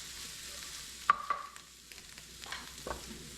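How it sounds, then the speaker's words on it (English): Onions and green peppers cooking down in a hot pan for a crepe filling give off a quiet, steady sizzle, with a couple of sharp utensil clinks and stirring scrapes near the start. "We're going to let the onions and the green peppers cook down."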